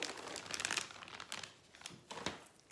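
Plastic packaging around a new Sherpa blanket crinkles and rustles as it is unwrapped, in a quiet, close series of soft crumpling bursts.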